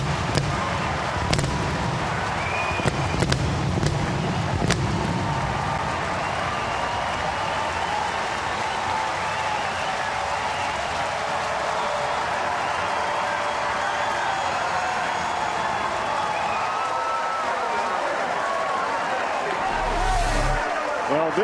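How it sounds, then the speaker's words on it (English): Reds home crowd at a baseball game roaring for a go-ahead home run, a broad sustained cheer and applause from a large stadium that swells and holds, with claps and shouts scattered through it. "Listen to this crowd say thank you."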